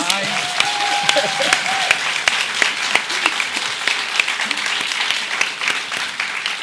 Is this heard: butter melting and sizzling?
no